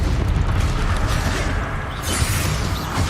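Incendio fire spell cast in Hogwarts Legacy: a steady, loud roaring burst of flame with a rumbling low end that holds for about three seconds.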